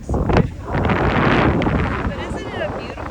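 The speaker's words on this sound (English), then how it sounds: "It's way windy again, and I hope you can hear me." Strong wind buffets the microphone at a beach, a loud continuous low roar with gusts, while someone talks over it.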